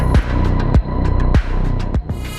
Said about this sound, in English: the unsolved natural phenomenon, the mysterious hum sound, the Taos hum